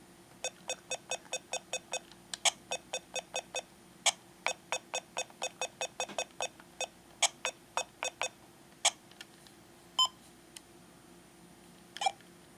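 An InfoGenius personal organizer cartridge for a game console beeps as a name is typed in, giving a long, fairly regular string of short, sharp electronic bleeps over a faint hum, with a few pauses and higher tones.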